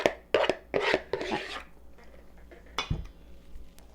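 Apples tipped into a large bowl of orange, apple and cranberry granola, giving a few close rustling, scraping pours with soft knocks against the bowl, then a quieter shuffle and one more brief clatter.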